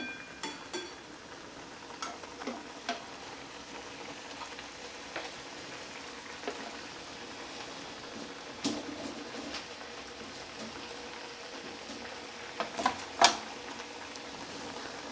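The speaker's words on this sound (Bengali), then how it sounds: "ভালো করে নাড়িয়ে দেব, দিয়ে আমি ঢাকা দিয়ে দেব" Egg omelette curry is stirred in a pan over a steady, quiet sizzle, with occasional soft clicks and scrapes of a utensil against the pan.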